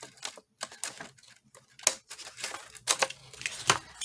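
Scissors cut paper pieces for altered playing cards, a run of close, crisp snips and crinkles in an irregular rhythm with short pauses between cuts and no talking.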